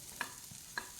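Potatoes stir and fry in a pan for aloo posto, a faint soft sizzle broken by two light metallic clinks of a spatula against the pan.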